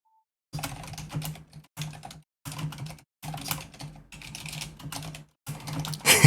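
Bursts of close keyboard typing, rapid clicking keystrokes arriving in several separate runs with short silent gaps between them and no voices.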